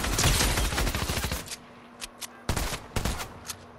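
Automatic gunfire in Fortnite Battle Royale, a loud sustained burst lasting over a second, then several sharp single shots spaced apart, with no talk over it.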